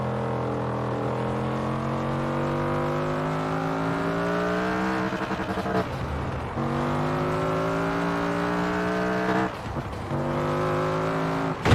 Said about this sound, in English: I like just barely pulling out and listening to the motor and the exhaust.